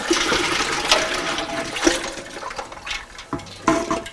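Chilled water is dumped from a container into a pot of turkey brine, a close, gushing splash with uneven surges that stops and restarts briefly.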